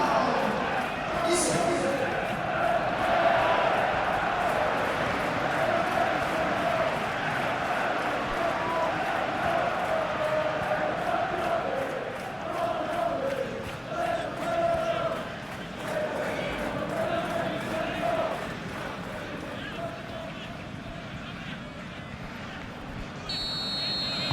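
Simulated stadium crowd from an eFootball 21 Champions League quarter-final between Liverpool and PSG, a steady roaring murmur of fans throughout, with commentators talking over it.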